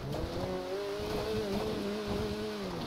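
A car drives in the GTA video game in roleplay mode, its engine holding a steady, slightly wavering drone at close range, with no talking.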